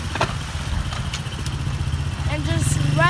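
A motorcycle engine idles and is revved gently while warming up before being put into first gear, a steady low throbbing running throughout, close and fairly loud with a voice talking over it.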